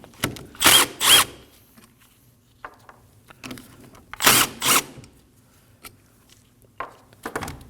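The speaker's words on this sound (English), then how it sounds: "Using a 14mm socket, go ahead and take these two bolts off." Power tool with a 14mm socket spinning out the front brake caliper bolts on a 2011-2016 Kia Optima, loud close bursts of whirring and ratcheting in several separate runs with short pauses between.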